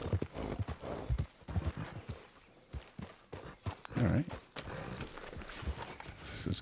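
Horse hooves clip-clopping in the open-world western game Red Dead Redemption 2, an uneven run of close hoof strikes with a rider speaking briefly over them.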